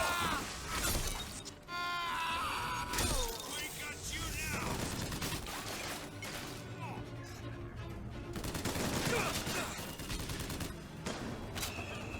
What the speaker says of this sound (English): This volley gun's okay, but it's kind of weak